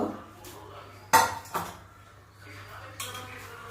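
Raw potatoes go into a pot of water on the stove to boil, heard as a few sharp metallic clanks and knocks of cookware spaced apart, with quiet kitchen background between.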